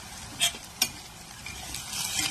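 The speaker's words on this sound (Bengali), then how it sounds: "এবার দিয়ে দেবো ছোটো ছোটো শুকনো লঙ্কা টুকরো আর কয়েকটা ক্যারি পাতা" Dried red chilli pieces and curry leaves fry in hot oil with a soft, steady sizzle, punctuated early by two sharp crackling pops as they hit the pan, close and without voices.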